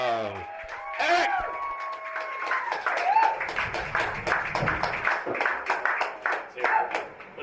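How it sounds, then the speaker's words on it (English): Audience at a live stand-up comedy show claps and whoops for comedian Eric Bergstrom, steady applause with cheers, a host's voice speaking over the top. "give him a big round of applause"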